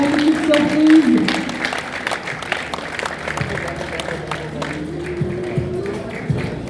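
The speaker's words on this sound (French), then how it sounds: "encore des acclamations s'il vous plaît pour Monsieur Aviel Trugier" Clapping and cheering from wedding reception guests after a surprise performance, a steady burst of crowd applause with a voice talking over it throughout.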